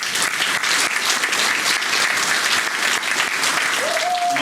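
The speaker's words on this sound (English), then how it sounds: "So once again, a round of applause for them." Steady, dense applause fills a hall at a Malden High School alumni hall of fame induction, with an even clatter of many hands and a faint tone sounding near the end.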